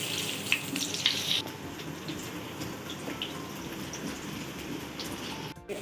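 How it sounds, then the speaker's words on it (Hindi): Potatoes frying in oil give a steady crackling sizzle with fine popping, continuous and close, with a few light clinks. "अब हम इसी सेम ऑयल में आलू को भी फ्राई कर लेंगे।"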